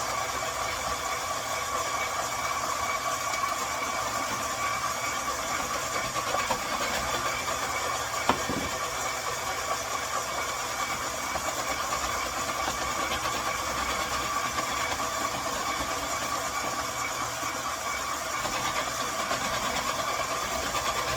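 A KitchenAid stand mixer running a chopper attachment to chop onions, heard as a steady mechanical motor hum at moderate level with no break, plus one small knock partway through.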